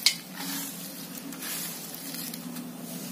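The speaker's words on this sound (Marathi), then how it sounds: "तुम्ही बघू शकता अशा प्रकारे आपल्याला इथे शेंगदाणे भाजून घ्यायचे आहे छानपैकी" Peanuts roast in a pan, giving a steady soft sizzle and dry rustle as they are stirred. A faint scrape comes at the start, and no voice is heard.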